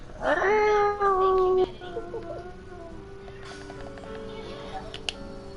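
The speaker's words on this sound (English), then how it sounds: "What our cat sounds like when you bathe him" A cat being bathed lets out a loud, drawn-out yowl, followed by fainter, wavering meows trailing off, with some voices in the background.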